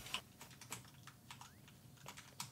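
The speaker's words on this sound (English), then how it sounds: "I kept typing like crazy." Scattered clicks from a computer keyboard, quick and irregular, typed close by at a soft level with no talking.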